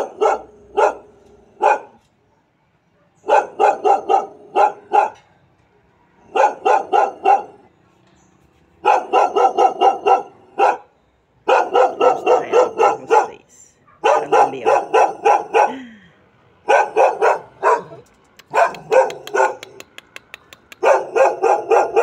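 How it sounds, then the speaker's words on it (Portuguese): A small dog barks in repeated rapid bursts, several yaps per burst, with short pauses between, loud and close against a quiet background. "E aqui tá a cachorrinha latindo."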